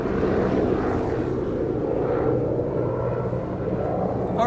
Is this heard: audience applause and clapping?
no